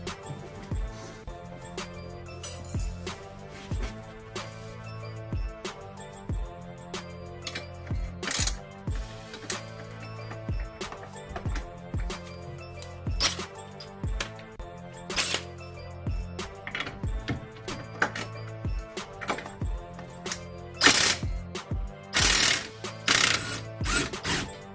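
A ratchet wrench backs out the strut nuts on a Lexus BC coilover, giving close, repeated clicking runs with short pauses and occasional louder clanks of tools.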